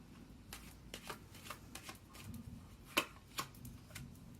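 Tarot cards shuffled and drawn by hand, a run of soft riffling flutters and light snaps repeating at a quick uneven rhythm, close and quiet, with no talking.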